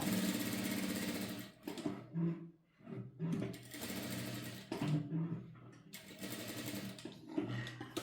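Sewing machine stitching along the edge of blouse fabric, running in steady bursts with short pauses between them, loud and close.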